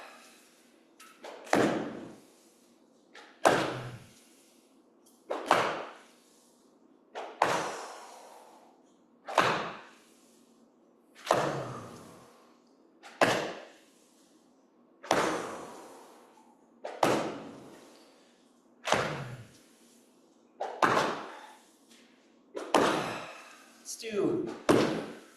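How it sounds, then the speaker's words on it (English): Repeated hand slaps landing on a body, about a dozen sharp thuds spaced roughly two seconds apart, close and fairly loud with no talking. "the sound that your hand makes when it lands on your shoulder"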